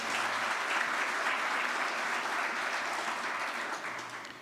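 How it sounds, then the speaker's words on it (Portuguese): A church congregation applauds during a Mass, with sustained clapping from many hands across the room. It stays even and fairly distant, then tapers slightly toward the end. "Damos aplauso para todos."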